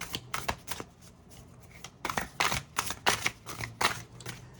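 Fortuna tarot deck being shuffled, with repeated quick papery riffles and card slaps in uneven bursts, close up and with no talking.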